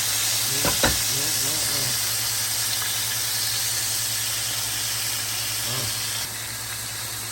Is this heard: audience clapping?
no